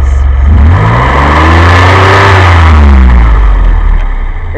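A DeLorean engine fitted with a carburetor conversion revs up hard and then drops back. The rev is very loud and close and stays steady throughout, with no talking.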